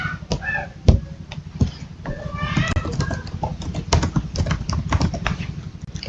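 Someone types on a computer keyboard with quick, uneven bursts of clicking keys, close to the microphone, while a voice speaks faintly in the background and birds call outside.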